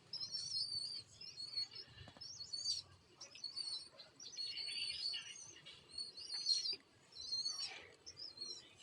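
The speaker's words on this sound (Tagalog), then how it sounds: "Naririnig nyo ang iyak ng aking mga inakay na kalapati." Repeated thin, high-pitched cheeping calls come in bursts, fairly faint and close, pigeon chicks crying with short pauses between.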